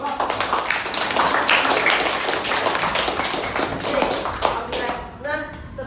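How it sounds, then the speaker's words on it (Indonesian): Schoolchildren in an elementary classroom clap for all the groups, a dense, steady patter of many hands that keeps going, and a voice talks over the applause near the end. "Tepuk tangan untuk semua kelompok."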